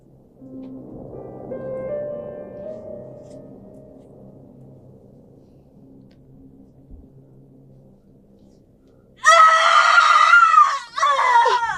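A loud, shrill scream bursts out near the end after a stretch of low rumbling, breaking off briefly before resuming.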